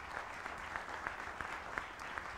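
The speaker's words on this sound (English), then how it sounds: "That's a round of applause." Applause from a town hall audience thanking a film panel, a steady wash of many hands clapping at moderate distance with small bursts of sharper claps through the whole stretch, no voices on top.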